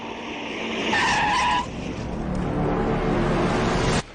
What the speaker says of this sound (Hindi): लगता है गड्ढे में फंस गई गाड़ी